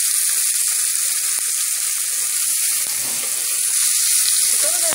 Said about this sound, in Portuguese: Vou estar acrescentando cebola.